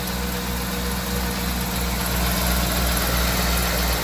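A repaired Ford Econoline van engine idles steadily with a constant low rumble and faint vibration, close by and without voices.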